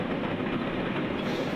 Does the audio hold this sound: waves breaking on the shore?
no